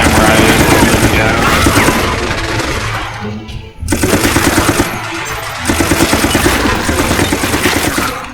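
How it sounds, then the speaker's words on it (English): Heavy machine gun fire in Resident Evil: Operation Raccoon City, dense rapid bursts with a brief break, loud and continuous, mixed with game effects and impacts. "Let's go back to the heavy machine gun fire."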